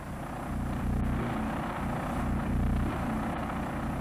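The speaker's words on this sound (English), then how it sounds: "That low rumble is the AVIC Zhuo Tian." Deep, steady droning rumble of an AVIC Zhuo Tian, a 10-ton Chinese drone mothership aircraft, swelling slightly after the first half second and holding loud and continuous with a whirring, rotor-like low hum.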